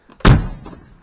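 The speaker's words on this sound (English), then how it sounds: "doors shut good." The door of a 1969 MGB GT British sports car shuts once with a solid, close thunk that fades quickly, with no talking.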